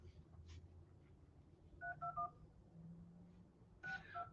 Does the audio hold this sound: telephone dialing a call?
yes